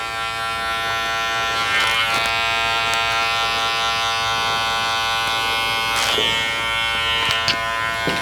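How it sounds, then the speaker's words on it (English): Electric hair clippers buzz steadily and close up during a professional barber skin fade, worked clipper-over-comb without a guard, with brief louder bursts as the blades bite into hair. "go right in with a little bit of clipper over comb"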